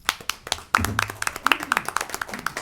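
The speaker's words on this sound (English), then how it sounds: "figured we'd get a little something going with 3 different applause moments" Scattered hand claps from a small audience at a county commissioner meeting, crisp and fairly close, arriving in an uneven rhythm with a voice briefly audible underneath.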